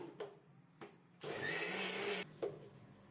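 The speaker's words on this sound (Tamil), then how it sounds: "பெரிய மிக்ஸி ஜாரில் நம்ம ஸ்டோர் பண்ணி வச்சுருக்க பாலாடையும் கொஞ்சம் நிறையவே ஐஸ் வாட்டர் ஊற்றி 4-5 ஓட்டுனீங்கனாலே அழகாக வெண்ணெய் நமக்கு திரண்டு வந்துடும்" A mixer grinder's large jar churns stored milk cream with plenty of ice water into butter, giving one loud, steady whirring burst of about a second after a few soft knocks, then settling back to quiet clatter.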